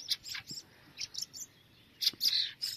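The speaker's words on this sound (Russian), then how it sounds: "Да, это скворцы." Young starlings chirping in short, high-pitched bursts, several thin calls clustered in two groups with quiet gaps between them, moderately close.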